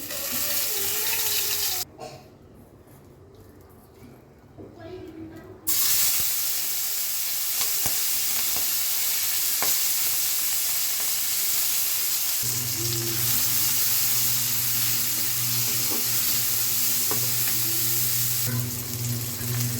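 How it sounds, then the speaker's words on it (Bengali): Onions and chilies fry in a pan with a constant close sizzle, broken by a short pause and a few stirring scrapes, and water runs in the background at times. "পেঁয়াজ মরিচটা যখন একটু ভাজা ভাজা হয়ে যাবে"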